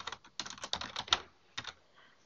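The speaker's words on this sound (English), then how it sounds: "type in my name, clone, parent and subtask" Typing a name on a computer keyboard, a short burst of close, crisp key clicks with a brief pause before a final pair of taps.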